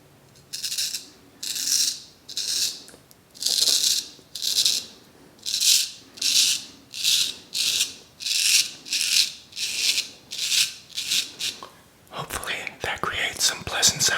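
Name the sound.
straight razor shaving skin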